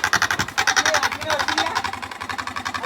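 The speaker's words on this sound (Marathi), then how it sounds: "ही दोघं जत्रेतल्या पिपाणीला गाडीच्या सायलेन्सर मध्ये घालून काय वेगळेच आवाज काढालते" A toy fair horn stuck in a vehicle's exhaust silencer gives off a rapid, pulsing buzzing drone with a steady chugging rhythm, loud and close.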